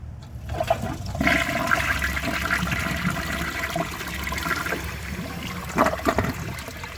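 A 2007 Corona Aquajet toilet flushes a washcloth, opening with a click before a loud, sustained roaring rush of water, then trickling and refill sounds with a couple of clunks near the end.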